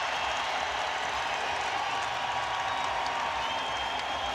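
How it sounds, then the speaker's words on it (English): A basketball arena crowd roars steadily for Reggie Miller of the Indiana Pacers during a 2005 NBA game against the Los Angeles Lakers, a broad, continuous wash of cheering and applause with no break across the stretch. "Listen to the crowd."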